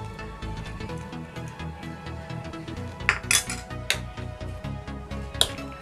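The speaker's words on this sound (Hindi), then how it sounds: "अब इसे अच्छे से मिक्स करके सब एक कर लेंगे।" Fruit salad with raisins being mixed in a bowl, a quick run of rhythmic clinks and scrapes of a spoon against the dish, close and continuous, growing sharper toward the end.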